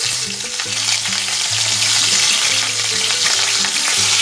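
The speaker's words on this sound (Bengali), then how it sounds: "আমি কড়াইতে তেল দিয়ে দিচ্ছি, তেলটা কিন্তু আমার গরম হয়ে গেছে। এবার আমি মাছগুলোকে ভেজে নেব।" Pieces of katla fish fry in hot oil in a wok, giving off a loud, steady sizzle and crackle that runs without a break, with a low tonal hum underneath.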